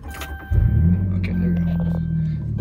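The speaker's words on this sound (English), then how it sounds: "I better start start my truck" A pickup truck's six-cylinder engine cranks and catches, then settles into a steady, close idle rumble, with someone talking over it.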